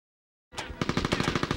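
Rapid automatic gunfire from the PS2 game Mercenaries erupts after a moment of silence, a loud, close burst of about a dozen quick shots in a steady stuttering rhythm.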